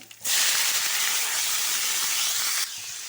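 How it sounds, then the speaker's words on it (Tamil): Mustard seeds, fenugreek, curry leaves, onion and bitter gourd hiss and crackle loudly in hot oil, a steady broad sizzle that starts abruptly and eases slightly near the end. "கடுகு, வெந்தயம் போட்டுக்கோங்க. நல்லா பொரியட்டும்."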